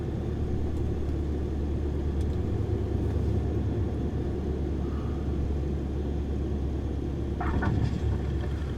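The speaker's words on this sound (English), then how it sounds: "Well, that wasn't the best landing I ever did." Airliner engines and rolling rumble as a plane lands in Microsoft Flight Simulator 2024, a steady low drone that runs continuously, with a short brighter burst near the end.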